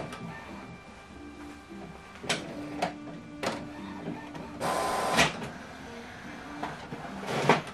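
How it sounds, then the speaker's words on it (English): An Epson WF7840 inkjet printer prints a two-sided document, with soft mechanical whirring, clicks and paper-feed rattles, a longer sliding burst midway, nearby and quiet, with no talking. "So this document right now will be printing out"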